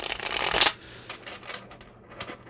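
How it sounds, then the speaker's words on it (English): Tarot cards are shuffled in a loud, close riffle that stops abruptly, followed by softer scattered slaps and flicks as the cards are handled and laid out. "So I'm just going to get these cards laid out."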